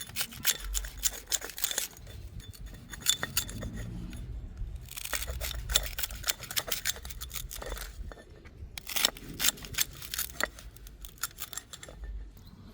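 Okra pods being cut for an herbal tea, giving repeated crisp crunchy slicing and snipping sounds in irregular bursts, close and fairly loud, with no talk.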